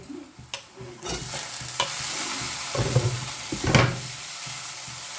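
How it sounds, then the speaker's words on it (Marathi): Mustard seeds crackle and onion fries in a hot pan, with dense sizzling and crackling, a few louder pops and spoon-stirring scrapes close by, and no talking. "आता मोहरी तडत झाली हे करून टाकला कांदा झाला कांदा लाल"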